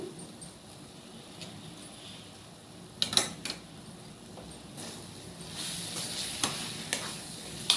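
Eggplant fry being stirred in a pan, with soft sizzling underneath and a few sharp scrapes and clicks of the spoon against the pan, close and fairly quiet.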